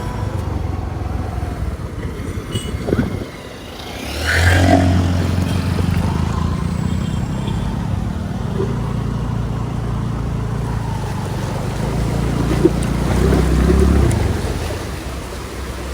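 A car pushes through deep floodwater on a crowded road near a temple, a steady low engine rumble with water washing and surging around it, loudest midway, with faint voices in the background.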